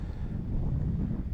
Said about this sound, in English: The selfie stick is bending from the wind gust blowing on it